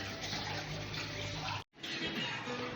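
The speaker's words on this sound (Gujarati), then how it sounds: "અત્યારે અચાનક વરસાદ આવવા માંડ્યો." Sudden rain pouring down at home, a steady broadband rush much like a running water tap, continuous and fairly close, briefly cut off near the middle before resuming.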